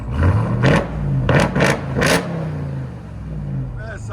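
A RAM TRX truck engine revs several times through an aftermarket exhaust, with sharp bursts of loud roar rising and falling over a rumbling idle while a voice speaks.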